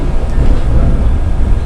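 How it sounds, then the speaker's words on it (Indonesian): A train in motion rumbles loudly from inside the carriage, a dense, continuous low roar with no pauses. "Sekarang kereta sudah jalan."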